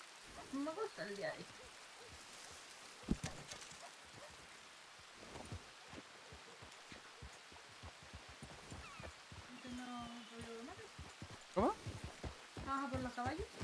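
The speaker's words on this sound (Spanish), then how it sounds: "Hoy el día va de lluvia." Rain patters steadily in a role-play video game set in the wild outdoors, a soft continuous hiss with scattered drop ticks, heard faintly beneath occasional talking and game sounds.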